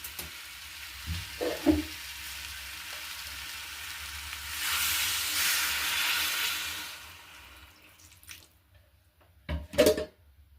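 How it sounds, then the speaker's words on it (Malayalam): Water is poured into a hot cooking pan of gooseberries, a loud surging sizzle lasting a few seconds, with clinks of utensils before and after. "ഇനി നമുക്ക് ഇതിലേക്ക് കുറച്ച് വെള്ളം ഒഴിക്കാം"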